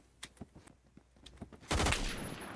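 Gunfire in the Phantom Forces video game, with a Serbu Super Shorty shotgun among the weapons: scattered sharp shots at first, then a loud dense burst of blasts near the end, with no talk.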